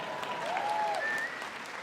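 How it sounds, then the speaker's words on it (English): At the 2013 Governors Awards ceremony, an audience applauds in a steady, soft wash of clapping while a faint whistle-like tone glides through. "please hold your applause till the end"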